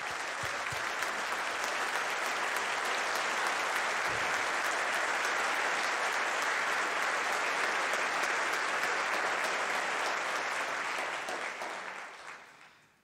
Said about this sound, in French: Merci de leur faire un tonnerre d'applaudissements.